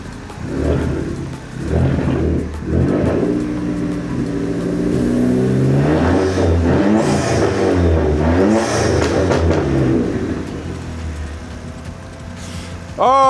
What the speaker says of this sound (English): We've got to give it a couple revs.